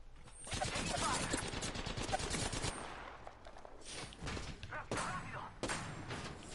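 Rapid bursts of automatic gunfire in a video game, a dense sustained volley at first, then thinner scattered shots and impacts with brief gaps between them.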